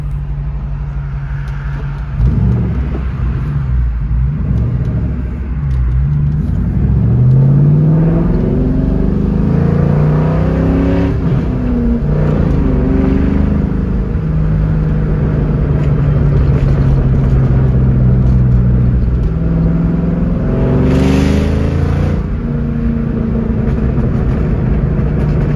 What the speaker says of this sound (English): And so we'll go for a drive off here.